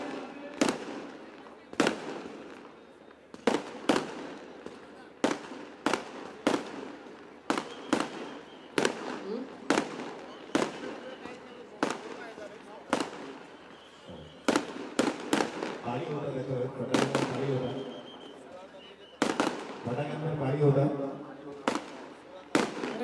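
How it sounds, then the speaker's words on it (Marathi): Firecrackers burst over and over at an outdoor political rally speech in Kalyan city, each sharp crack loud and close, arriving in irregular bursts that quicken near the end, with voices audible underneath. "अरे जे फटाके 16 तारखेला फोडायचे आजच फोडून राहिले।"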